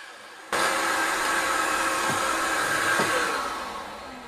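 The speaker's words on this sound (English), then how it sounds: "The vacuum started up by itself and turned off by itself." A Makita VC004G AWS cordless vacuum starts abruptly with a loud, steady whooshing motor roar, runs with a couple of faint knocks, then winds down and fades as it shuts off by itself.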